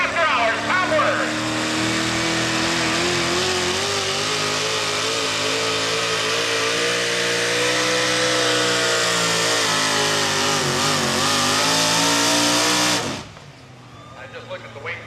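A 1995 Chevy pulling truck with a 642 cubic inch naturally aspirated engine roars at full throttle through a modified 4x4 truck pull, loud and sustained for about thirteen seconds before cutting off abruptly, with faint crowd noise after.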